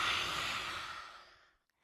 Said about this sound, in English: as we exhale, just poking out the tongue and giving a nice heating, assertive exhalation to release.